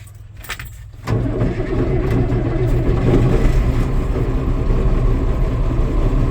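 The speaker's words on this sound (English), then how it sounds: "Let the engine pressure build up. And give her a little throttle there." A John Deere 7045 tractor engine turns over and catches around the one-second mark, then settles into a loud, steady rumble with slight revving, heard up close and alone.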